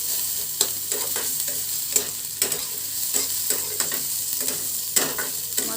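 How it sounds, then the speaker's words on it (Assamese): Onions browning in oil in a pan for a potato sandwich filling, sizzling steadily while a spatula scrapes and stirs them in regular strokes, close by with no talking. "মই পিঁয়াজখিনি ৰঙচুৱা কৰি ল'ম"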